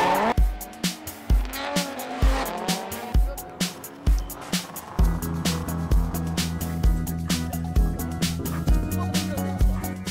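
Drift cars at the DoriDore 2018 event, with repeated tire squeals and loud engine revving over roughly ten seconds, a few short bursts early giving way to a sustained drone, with faint voices in the background.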